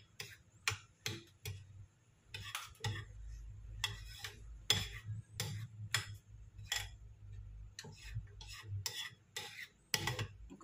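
Chocolate is stirred into banana cake batter for a microwave cake with a utensil, making a steady series of light clinking and scraping taps against the bowl, close and fairly quiet, with no talk.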